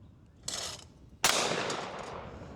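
A Yamamoto Pointer Auto shotgun fires one sharp, loud blast outdoors, and a long rolling echo trails after it. A fainter burst of noise comes just before the shot.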